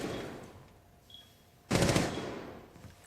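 Automatic gunfire in a tactical shooter video game during a pro league 1v1 round: faint distant shots early, then a loud, close burst of rapid fire that decays over about a second, with no talking.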